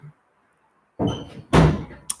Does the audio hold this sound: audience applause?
no